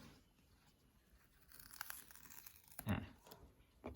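Adhesive sticker peeled off its backing and pressed onto a laser sight box for a gun-mounted flashlight, a short crackling tear near the three-second mark after quieter rustling, close and fairly faint.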